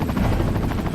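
Rotor beat from a helicopter in the Resident Evil 4 video game, a rapid pulsing thump that is loud and close and steady for about a second, with nothing else over it.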